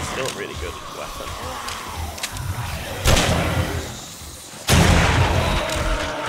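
Shotgun blasts in 7 Days to Die, two heavy booming shots a couple of seconds apart over constant game ambience and mechanical clatter, with a voice talking throughout.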